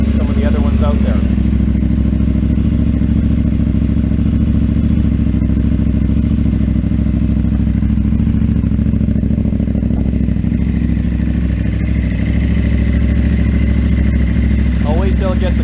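A 2022 KTM Duke 890R with a Rapidbike module and dual exhausts idles steadily and loudly close by, a constant mid-range engine drone with a person talking over it.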